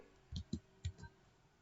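A computer mouse clicking a submit button on a web form gives four short, crisp clicks in two quick pairs, close and distinct against a quiet background.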